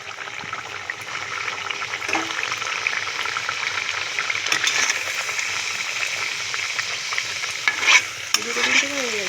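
Luchi, puffed flatbreads, frying one at a time in hot oil, a continuous bubbling sizzle close by with occasional swells and light clinks of a utensil, no speech.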